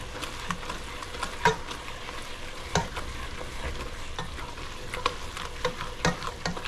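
Risotto bubbles and sizzles gently in a pot while a spoon scrapes and stirs at irregular intervals, close by.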